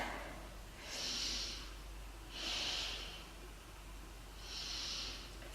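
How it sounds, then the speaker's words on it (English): Three slow, deep breaths during a beginner yoga session, each a long airy exhale, close and soft, spaced evenly over a low steady background hum with no talking. "3 big breaths."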